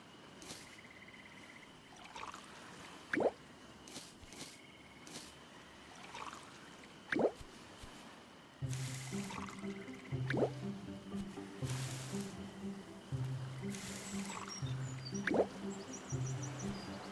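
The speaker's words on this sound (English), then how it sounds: "Must hit one in middle to water all adjacent crops." Crops being watered in the video game Stranded Sails produce a series of soft, wet drips and splashes at a steady interval of a few seconds, over quiet background game music.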